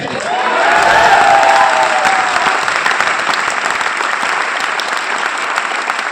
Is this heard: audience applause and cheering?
yes